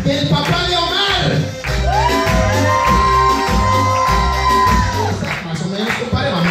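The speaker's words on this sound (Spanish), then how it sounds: "Quiero que se escuche el grito de los familiares del papá de Omar" Relatives at a family party in Tampico Alto, Veracruz shout, whoop and cheer loudly together as a crowd, over steady accordion music, with a sustained held cry rising above the din near the middle.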